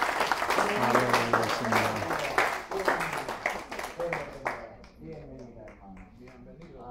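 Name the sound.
church congregation applause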